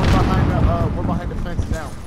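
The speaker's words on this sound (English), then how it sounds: "I just hear gunshots." Bursts of distant gunfire crackle in a video game, mixed with overlapping voices and a continuous noisy battle background.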